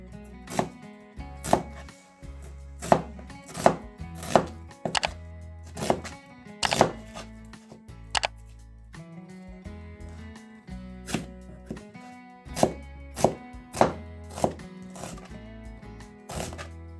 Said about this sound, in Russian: Режем полукольцами.